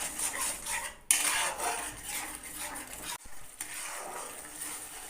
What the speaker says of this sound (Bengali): মশলাটাকে কিন্তু কন্টিনিউয়াসলি নাড়তে হবে, নাহলে তলায় লেগে যাবার একটা সম্ভাবনা তো থেকেই যায়